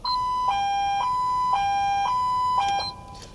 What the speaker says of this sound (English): This high-low siren allows us to quickly alert entire neighborhoods that they're in immediate danger.